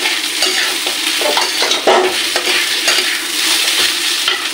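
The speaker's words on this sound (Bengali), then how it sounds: "ডালটাকে 5 মিনিট মতন আমি একটু ভাজি করে নেবো।" Dal frying and being stirred in a pan: a steady close sizzle with repeated scraping strokes of a spoon or spatula, no voices.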